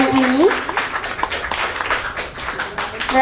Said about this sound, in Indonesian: boleh tepuk tangan untuk ketiga narasumber kita pada siang hari ini